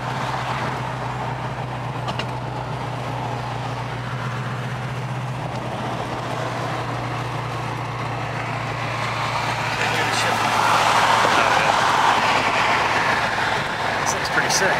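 An 85 Foxbody's engine idling steadily up close, a low constant drone that swells slightly louder near the end, with people talking over it.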